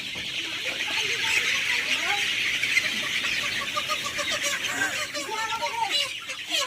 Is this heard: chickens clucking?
yes